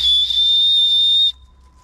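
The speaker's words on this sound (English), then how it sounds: "my Gossamer Gear backpack has a little rape whistle built into the front of it" A small safety whistle built into the front of a Gossamer Gear backpack gives one loud, steady, shrill blast that lasts over a second and then cuts off sharply, with nothing after it.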